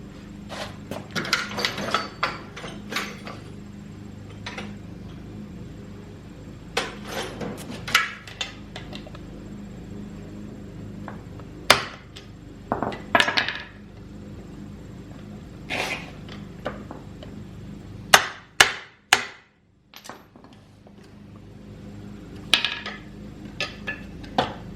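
A 3-pound hammer strikes a steel socket extension in a series of sharp metallic blows, some isolated and some in quick clusters, with quieter clanks and handling noise between them.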